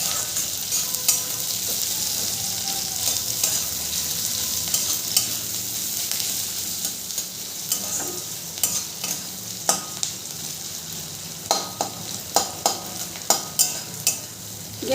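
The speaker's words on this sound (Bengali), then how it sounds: "পেঁয়াজটা যতক্ষণ না পর্যন্ত লাল হয়ে ভাজা হচ্ছে ততক্ষণ পর্যন্ত পেঁয়াজটাকে আমি" Onion frying in a pan over a medium gas flame, with garlic added later, sizzling steadily and close up, with sharp scraping stirs that come more often toward the end, and no talking.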